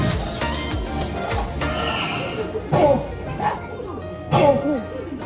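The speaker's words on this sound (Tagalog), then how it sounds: "Ngayon ko lang nalaman na ang dinosaur pala ay tumatahol eh." Two short, loud barking bursts from an animatronic dinosaur cut through a busy, noisy outdoor scene in Osaka with voices.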